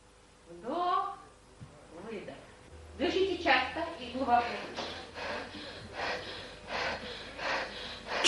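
Rapid, deep breathing from a Systema Kadochnikov exercise follows a brief spoken voice, with forceful rhythmic inhales and exhales heard up close in quick, snorting, gasping bursts.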